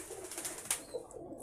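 Pigeons cooing in a loft of colourful kept birds, a few soft, brief coos, faint and close-ish over quiet background, with no talking.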